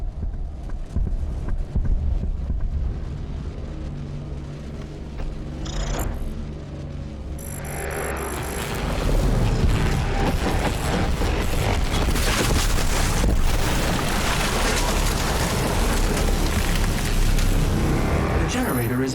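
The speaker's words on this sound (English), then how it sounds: "The generator is overloading." Generator overloading in the Doom Eternal level Super Gore Nest on PS5: a dense, loud mechanical roar and rumble that swells midway and holds steady, with a synthetic announcer voice speaking over it.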